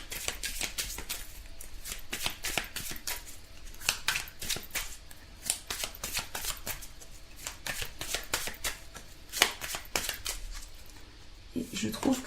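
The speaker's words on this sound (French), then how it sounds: "On va maintenant tirer une carte conseil pour l'amour justement." Tarot cards are shuffled and flicked in quick, crisp bursts of slapping and riffling, close and fairly quiet, with a voice talking now and then over the card noise.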